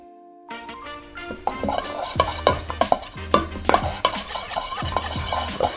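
Garlic and herbs being mixed by hand in a bowl, a run of close, irregular wet squelching and scraping strokes after a brief quiet start.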